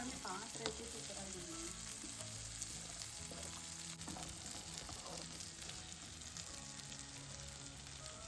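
Prawns frying in pepper and curry leaves on a flat tawa, a steady close sizzle with scattered stirring scrapes and crackles throughout, no talking.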